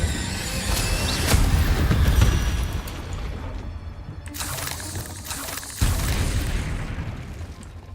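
An Incendio fire spell cast in the Hogwarts Legacy video game: a loud, dense roaring whoosh with a heavy low rumble swelling early, then renewed bursts midway and a sharp fresh blast near the end, continuous throughout with no voices.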